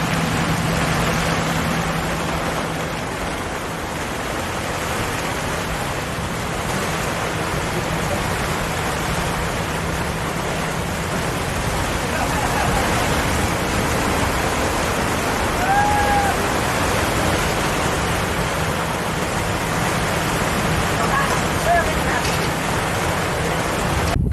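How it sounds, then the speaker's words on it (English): Steady broadband hiss of falling rain from a squall at sea in the doldrums, continuous and even throughout, with a faint engine-like drone beneath and no voices. "Some rain."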